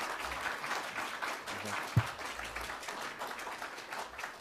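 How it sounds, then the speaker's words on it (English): Soft, distant applause from a convention audience at a reparations conference, steady but faint, with one sharp thump partway through. "Please give him a round of applause"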